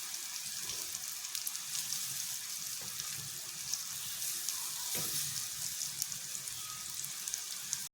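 Batter-dipped raw banana slices deep-frying in hot oil, giving a dense, continuous hiss and crackle close by that holds steady throughout and cuts off abruptly at the end.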